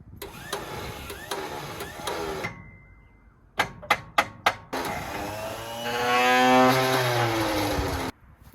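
A 1976 Jeep truck with a 401 engine and Turbo 400 transmission, sitting for 29 years, is cranked via the starting solenoid: rhythmic clicks and mechanical rattling, then sharp snaps, then a rising whining crank that cuts off abruptly.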